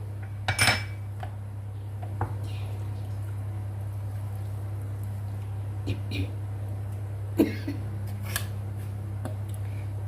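Mutton mince goes into a cooking pot with garlic, bringing a few scattered metal clinks and scrapes of a utensil against the pot over a low, steady background hum.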